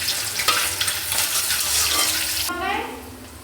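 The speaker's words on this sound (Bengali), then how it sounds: "তেল দিয়ে এটার মধ্যে পেঁয়াজ দিয়ে দিয়েছি" Onions fry in hot oil in a wok, giving a bright, hissing sizzle with brief stirring clatter before the sound drops to a softer bubbling fizz.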